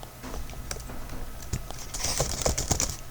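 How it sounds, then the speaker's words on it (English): Rapid clicking keystrokes on a computer keyboard while editing a locked Microsoft Word document, a steady close patter with no talking. "Let me type something"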